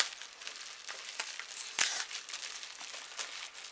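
An object wrapped in bubble wrap is unwrapped by hand, giving steady close crinkling and rustling of plastic, with one louder crunch or tear partway through.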